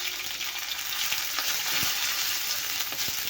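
Green chillies frying in a pan of hot oil with roasted cumin, a steady loud sizzle with occasional crackles and pops, close up and continuous, with no voice over it.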